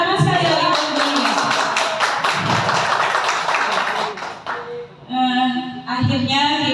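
An audience claps for Ibu Yulia Kristiana after her presentation on positive culture, with rhythmic, fairly close applause and a voice speaking over it near the end.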